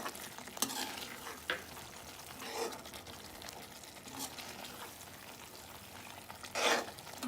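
Green chillies fry in a pan for a paneer butter masala, with a soft steady sizzle broken by a few louder scraping stirs, fairly close and with no talking.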